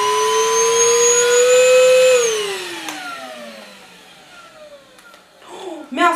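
A cordless vacuum cleaner hums with a steady high whine, then powers down and winds off, followed by faint clatter and a voice at the end.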